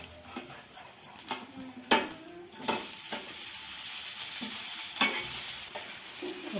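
Pesarattu, a green gram dosa, frying in a pan with steady sizzling, accompanied by scraping and clinks of a spatula against the pan, with the sizzle growing louder about halfway through.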